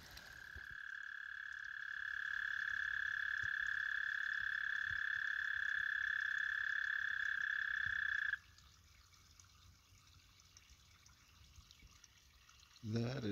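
A spring peeper chorus frog calls from a backyard pond at night, a loud, continuous high-pitched trill held steadily for about eight seconds before stopping abruptly, leaving faint night ambience.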